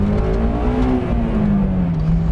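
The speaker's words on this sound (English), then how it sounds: "it's just a very high revving engine" A 2008 Honda S2000 CR roadster's high-revving engine accelerating, a loud, close, steady intake and exhaust note whose pitch rises and then eases slightly over a couple of seconds.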